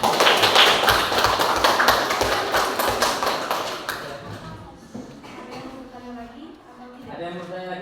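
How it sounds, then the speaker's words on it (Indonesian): Classroom applause from junior high students breaks out at once, a dense burst of claps that thins out after about four seconds as a teacher begins speaking over the fading patter. "Beri tepuk tangan."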